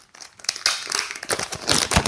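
Black plastic bag crinkling and rustling as it is opened, an irregular stream of crackles and crumples that grows busier and louder over two seconds, close up with no talking.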